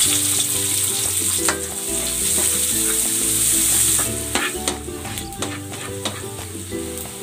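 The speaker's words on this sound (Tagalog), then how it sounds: "Igigisa ko na tong bawang. At ang sibuyas." Garlic and onion sauté in cooking oil for beef kare-kare, starting as a loud, continuous sizzle that turns choppier midway as stirring clatter and scrapes break through the hiss.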